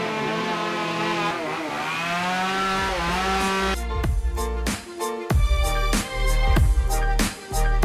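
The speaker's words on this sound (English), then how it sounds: "I'm still gonna check out this chainsaw carving invitational they've got going on." Chainsaws rev and bog at a chainsaw carving competition at the Albuquerque Balloon Fiesta, with a sustained high engine whine giving way to loud, choppy bursts as blades bite into wood nearby.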